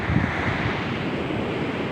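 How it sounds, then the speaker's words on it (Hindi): Spring water from the mountains running beneath snow, a steady broadband rushing flow heard up close and continuously, with no voices over it. "ये पानी बर्फ़ के नीचे से आगे जा रहा है। ये पहाड़ों के ऊपर से ये चश्मों का पानी आ रहा है"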